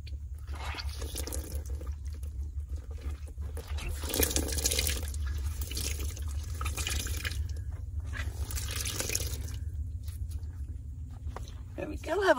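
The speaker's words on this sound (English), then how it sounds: "I wring them out really well." Water patters and splashes in bursts as wet cloths are wrung out over a container inside a minivan, fairly close and intermittent, with a low steady hum beneath and a person talking at times.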